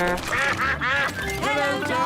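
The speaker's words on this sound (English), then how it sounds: "Hello, ducks." Cartoon ducks in a Peppa Pig episode quack in a loud, rapid cluster of nasal calls, close and prominent over faint background sound.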